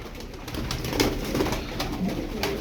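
A flock of tumbler pigeons gives repeated low cooing calls, fairly close and steady over a continuous outdoor background.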